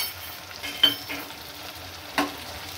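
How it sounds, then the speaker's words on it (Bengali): Cumin, garlic and ginger paste fries in a pan, a soft steady sizzle with two sharper scrapes of a spoon stirring through it, close by and with no one speaking. "মা মশলাটাকে কিন্তু একদম ভালোভাবে কষিয়ে নিচ্ছে"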